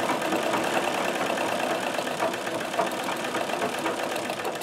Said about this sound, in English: But what I'm doing now, this machine is going to do a beautiful job.